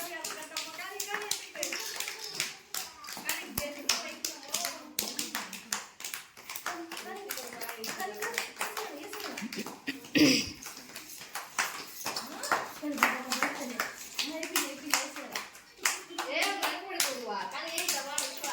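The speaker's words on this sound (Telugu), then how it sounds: "claps claps" Children and mothers clap at an anganwadi children's day games event, with bursts of claps scattered through steady talk and chatter, a louder cluster near the middle.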